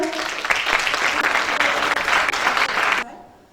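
A concert audience applauding steadily with dense clapping for about three seconds, then the applause cuts off abruptly.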